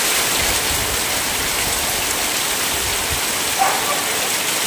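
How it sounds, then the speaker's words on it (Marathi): Heavy rain falls hard and steady outside a village home, a dense continuous hiss with a faint knock near the end and no clear talking. "एवढा बघा जोरात पाऊस"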